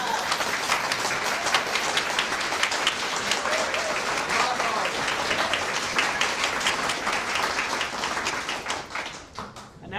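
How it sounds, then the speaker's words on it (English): A church congregation at a Sunday service applauds a guest musician with dense, sustained clapping that holds steady and tapers off near the end. "let's give a round of applause to our guest musician, Ralph Gardner."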